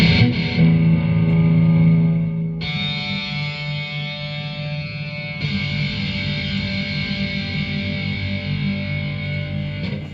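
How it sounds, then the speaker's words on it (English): Distorted electric guitar from a Steinberger-style clone fitted with DiMarzio Super Distortion pickups, played as sustained heavy chords with effects and some echo, loud and steady for the whole passage with a change of chord partway through. "So this is what this distortion is supposed to sound like."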